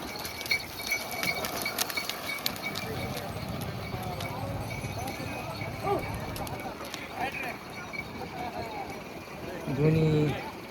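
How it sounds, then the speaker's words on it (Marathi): Oxen walk at a cattle market in Gangakhed, a bullock pair being worked for buyers, their hoofbeats a soft irregular clopping under busy crowd chatter and nearby voices. "बघा कामाला कसं चालायचं इथं बैल."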